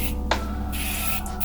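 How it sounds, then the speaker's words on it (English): A flexible hairspray is sprayed over hair in a short burst, then a second quick puff follows a moment later, close to the mic against a steady background hum. "This is a flexible hairspray, so I'm just going to take that and kind of spray it all over"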